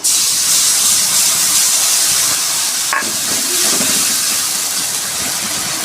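Chili, ginger and garlic paste sizzling in hot oil, a loud, steady, close hiss that fills the whole stretch, with a brief clatter of a utensil partway through.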